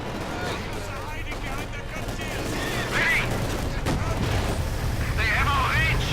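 Anti-tank gun fire and battlefield gunfire in Company of Heroes 2, a WWII real-time strategy game, with scattered shots and blasts under a steady rumble, moderately loud throughout with faint background talk.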